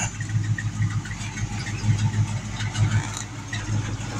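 A 1973 Mercury Montego's engine runs steadily at close range, a low, rumbling idle with a slight knocking pulse throughout and no voices.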